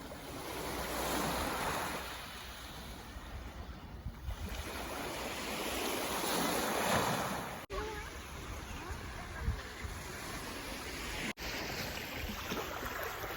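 Sea waves wash onto a beach in Odesa region in long swelling surges, with wind buffeting the microphone and someone talking over the surf.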